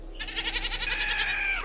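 A goat bleats once in a long, wavering cry that holds steady and then trails off, close and clear with no talking.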